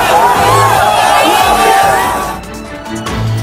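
A large crowd of people in Bihar cheers for Pawan Singh at an election rally, a loud mass of shouts and whoops with a few raised voices standing out from the din.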